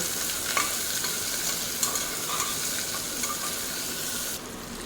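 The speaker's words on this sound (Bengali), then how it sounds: "চিংড়ি মাছটাও দিয়ে একটু ভাজাভাজি করে নেব" Steady sizzling of shrimp frying in a pan, close up, with occasional clicks from stirring; the hiss drops off abruptly at the end.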